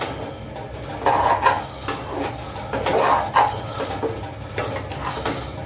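A spoon stirs sugar and milk into a maize flour laddu mixture in a metal pan, producing clattering scrapes and knocks in uneven bursts at close range, with no talking.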